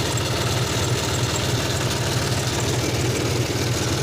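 A John Deere D-series tractor engine runs at a steady idle, a continuous low, throbbing drone with even vibration throughout, close and fairly loud with no talk.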